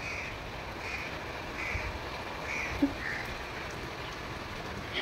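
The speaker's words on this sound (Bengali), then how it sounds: "আর কাকটা অলরেডি এতক্ষণ পরে উড়ে গেল" A crow caws faintly now and then, somewhat distant, over a steady wash of rain falling on surfaces outdoors during a sudden monsoon shower.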